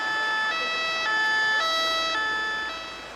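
An ambulance siren plays from a video, a loud two-tone wail alternating steadily at close range with no speech over it.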